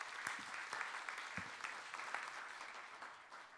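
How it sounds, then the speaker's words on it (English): A conference audience claps for the presenters, a steady spread of many hands with a few sharper individual claps standing out near the front, holding for several seconds at moderate volume. "please give all the presenters another big round of applause"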